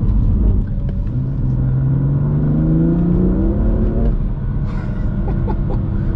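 A BMW M2 Competition with 410 hp accelerates hard at full throttle in sport mode on a damp road, engine note rising in a loud climbing roar from inside the cabin, then a gear change and renewed pull.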